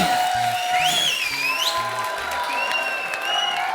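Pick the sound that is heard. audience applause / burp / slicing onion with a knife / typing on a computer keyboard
audience applause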